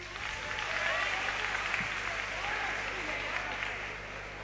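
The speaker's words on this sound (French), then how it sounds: "Alors, Amédée, on applaudit pour lui." Applause at a tenth-anniversary celebration for a singer, a steady, even wash of crowd clapping across the whole clip with a faint low hum beneath it.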